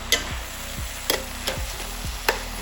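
Yakisoba noodles sizzle in sauce while being stir-fried, with a steady hiss broken by several sharp clacks and scrapes of a utensil against the pan, close and fairly loud, no voices.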